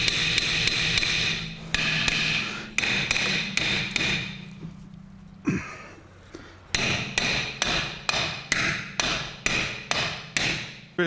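A hammer strikes a brake part on a Land Rover Freelander's rear drum brake, ringing metallic blows in rapid bursts, then a short pause and a steady series of about a dozen evenly spaced loud whacks.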